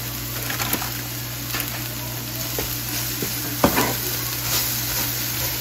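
Shredded coleslaw mix, a whole bag dumped into a hot frying pan for egg roll in a bowl, sizzles steadily with occasional stirring scrapes and clinks, alone and fairly close.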